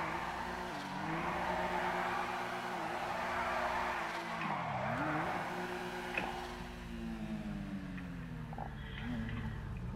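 Car drifting down mountain roads in the FiveM game, with engine revs rising and dipping and tires squealing in long skids. The sound stays loud and continuous, and no one talks.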